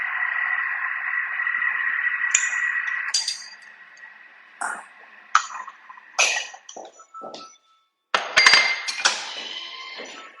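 A Thermomix mixing in reverse at speed 2 gives a steady whirring hum for several seconds, then stops and leaves scattered clinks and knocks of utensils and dishes.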